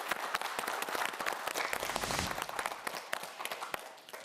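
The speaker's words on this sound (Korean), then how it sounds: "김영진 학생을 위해서 큰 박수 부탁드립니다" A studio audience on a Korean student quiz show claps for a contestant, a brisk, fairly quiet round of applause with sharp individual claps standing out, swelling briefly mid-way before easing off.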